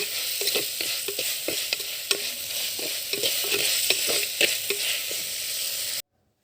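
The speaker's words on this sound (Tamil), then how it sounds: "இப்போ நம்ம எடுத்து வச்சுருக்க அந்த எலும்புகளை போட்டுக்கலாங்க. கொஞ்சம் நேரம் வதங்கட்டும்." Country chicken bones sauté in a pan for soup, a steady close sizzle overlaid with frequent rhythmic scraping and clinking of a spatula stirring, continuing without speech until an abrupt stop.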